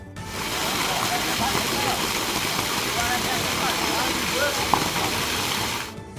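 Two motor pumps draining water from a stepwell, a steady loud broadband rush and hum that holds unbroken throughout, with faint faraway sounds behind it.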